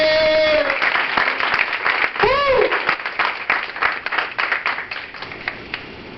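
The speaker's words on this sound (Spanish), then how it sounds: "Alguien dé un aplauso en esta mañana al Rey de Reyes y al Señor de Señores." Congregation at a Sunday church service applauding, a dense wash of many hands clapping throughout, with a brief swooping electronic tone partway through and some voices mixed in.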